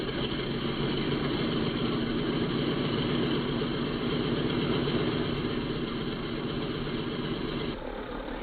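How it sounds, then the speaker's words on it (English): Number 2 engine of a B-17 bomber idles during 1943 ground operations, a loud, close, steady low throbbing drone that keeps an even rhythm before shifting slightly near the end. "Signal to start number 2."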